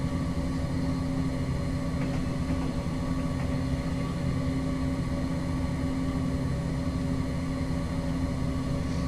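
Locomotive running at night on the Edinburgh–Glasgow route in Train Simulator 2021, a steady low engine drone with constant humming tones, continuous and unchanging throughout.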